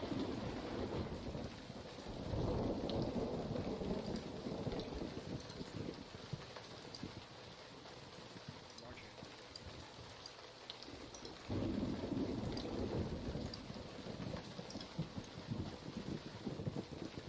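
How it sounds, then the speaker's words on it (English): Thunderstorm in the Emergency 4 emergency-response game: steady heavy rain with rumbling thunder swelling near the start and again late, a continuous wet wash throughout with no voices. "Lightning strike"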